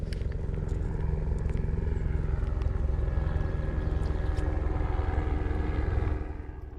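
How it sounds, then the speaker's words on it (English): A helicopter's steady droning engine passes overhead, holding for several seconds before fading slightly at the end, with rain hiss in the background during the July 4th Texas floods. "There's one of the helicopters going over."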